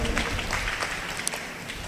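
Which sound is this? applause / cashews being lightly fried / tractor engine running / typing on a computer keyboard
applause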